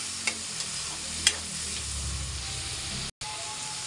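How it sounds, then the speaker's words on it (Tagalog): Chopped tomatoes sautéing in a hot pan for a bitter melon, tomato and egg dish, a steady close sizzle with a few spoon clinks and stirring scrapes, briefly cut out near the end. "Maggisa tayo ng kamatis."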